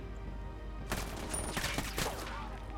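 Gunfire in Ghost Recon Wildlands: a quick run of fairly faint shots, close together, starting after a short quiet moment and lasting about two seconds.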